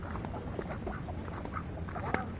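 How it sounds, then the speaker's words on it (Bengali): Several domestic ducks quack repeatedly at close range by the Pohmara River, a busy chatter of short nasal calls with no talking. "এই দেখেন, এগুলো হলো"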